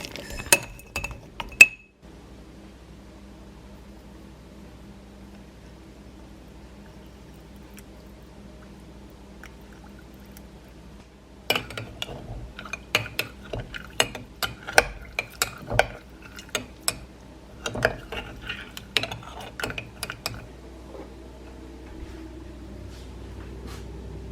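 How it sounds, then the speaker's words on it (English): Berries are added to a fruit smoothie and mixed in a glass: a stretch of near silence, then a quick run of close, sharp clinks and tapping stirring sounds, fairly faint with no voices. "Then I'm going to add my berries. All of that mix."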